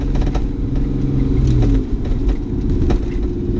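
A stock, unmodified BMW E30 Touring accelerates with a steady low engine drone from inside the car, the pitch holding and briefly shifting midway, loud and close.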